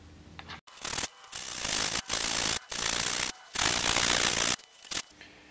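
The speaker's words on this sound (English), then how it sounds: "in order to take it down, I use a little sanding block" Close, rasping strokes of a small sanding block scrub across dry filler on an aircraft structure in several bursts, separated by brief pauses.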